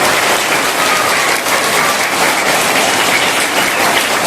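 Schoolchildren at a school reopening-day ceremony clapping together, a dense, loud, continuous burst of applause filling the whole moment without any voices.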